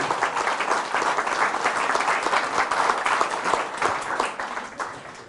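A Catholic congregation gives loud applause for the Virgin Mary during a priest's sermon, a thick, continuous wash of many clapping hands that swells and then tapers off near the end.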